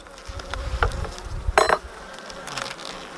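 Honey bees buzz around a beehive super, with a few close passes and brief louder bursts of buzzing over a quieter outdoor background.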